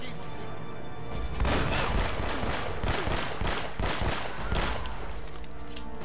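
Rapid bursts of gunfire in the action game Uncharted: Drake's Fortune, dense repeated shots with crashes and booms rolling through the fight, loud and sustained after a quieter opening.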